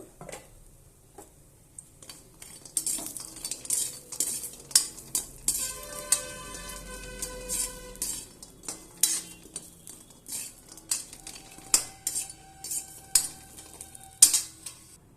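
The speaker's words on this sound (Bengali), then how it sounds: "কড়াইয়ে তেল দিয়ে দিয়েছি, এবার আমি বড়িটা দিয়ে দেবো ভাজার জন্য।" Lentil dumplings (bori) frying in hot oil in a wok, with a soft sizzle under repeated metal clinks and scrapes of a spatula stirring against the pan, close and steady, with no talking.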